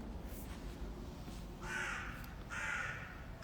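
Two harsh crow caws sound at a moderate distance outdoors from a tree in a foundation's garden in Eyüp Sultan, Istanbul, spaced about a second apart, over a steady background hum.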